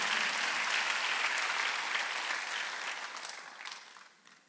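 A church congregation claps during a Sunday worship sermon at a Korean church: a loud, dense round of applause that stays full, then gradually fades and thins toward the end.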